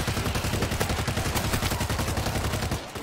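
Rapid bursts of gunfire from the World War Z video game, set in a New York subway descent, dense and continuous at close range for nearly three seconds before cutting off abruptly near the end.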